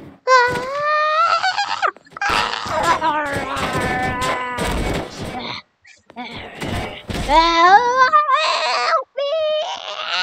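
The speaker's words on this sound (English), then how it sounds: "Did I just hear a scream?" Loud screaming, wailing and crying voices in Garry's Mod come in several harsh, strained bursts with brief silent gaps and heavy thuds between them.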